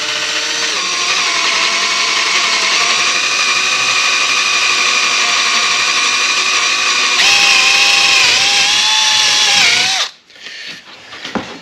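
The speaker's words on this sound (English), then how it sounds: "So we're going to go ahead and drill these" A power drill whines steadily at high speed for about ten seconds, drilling black walnut wood, its pitch dipping slightly near the end before it cuts off abruptly, leaving quiet shuffling.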